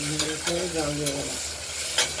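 Oil sizzles steadily in a wok while a utensil stirs and scrapes in a few sharp strokes, close and fairly loud, with no talking.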